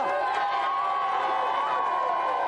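A TV game-show studio audience cheers and shouts in a continuous wash of crowd noise, with youthful voices mixed in at a moderate level.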